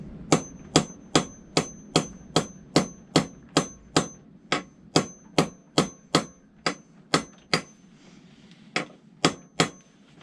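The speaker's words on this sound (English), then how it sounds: "Seems going better with a hammer" Steady metallic hammer blows drive a motorcycle head stock bearing race about twice a second, each a sharp ringing clang close by, continuing in an even rhythm with a short pause near the end.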